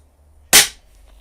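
A Daystate Air Wolf .177 air rifle fires a single JSB Exact 10.34 grain pellet, one sharp close crack with a short decay in otherwise quiet surroundings.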